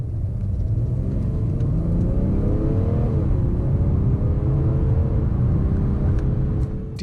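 A 2017 BMW 435d with a ZF 8-speed automatic accelerating hard from 30 to 70 mph, heard from inside as a loud, steady low engine drone and road rumble that climbs in pitch and drops briefly at a gear change.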